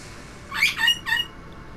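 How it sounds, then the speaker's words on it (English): A pet bird calls in the background on a Titanic-themed VR game session: two or three short squawking chirps in quick succession near the middle, moderately loud against a quiet room. "I would tell the bird to shut up"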